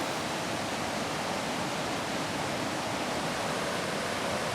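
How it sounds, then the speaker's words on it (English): The Santiam River rushing past, a dense, steady broadband roar of flowing water heard close and loud without any break, with no voices over it. "The Santiam River has to be the most beautiful river ever."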